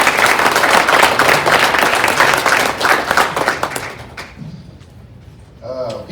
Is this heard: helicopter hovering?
no